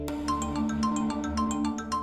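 A phone rings in a home setting, a bright repeating electronic ringtone melody of quick tonal beeps in a steady pattern, fairly loud and close, with no voices over it.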